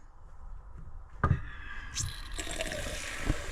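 Cold water runs from the sink faucet of a Coachmen Nova RV during de-winterizing, starting with a sharp click and sputter before a steady splashing flow that grows brighter into the basin, close by.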